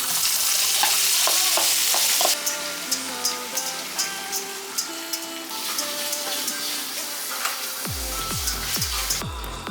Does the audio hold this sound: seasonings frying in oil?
yes